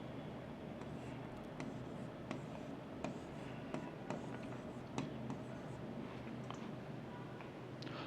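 A pen scratches steadily across paper while writing the word Kotlin, a soft continuous scribble with small tick-like strokes running evenly throughout.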